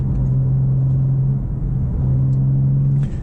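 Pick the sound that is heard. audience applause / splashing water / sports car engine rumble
sports car engine rumble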